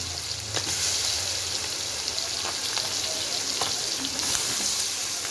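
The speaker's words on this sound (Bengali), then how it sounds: "চিকেনটা দিয়ে দিচ্ছি ভাজার জন্য" Chicken fries lightly in a pan with a loud, continuous hiss that swells when the pieces go in, with occasional crackles and light clinks of stirring and no speech.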